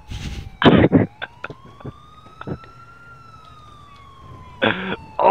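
In GTA IV, an ambulance siren wails steadily in a slow rising and falling tone, partly covered by short bursts of loud noise and clatter.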